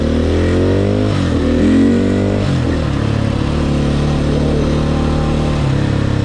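A KTM 450 EXC motorcycle engine revs on a cold, icy night: loud and close, a sustained raspy drone with rising throttle blips early on before settling into a steady roar.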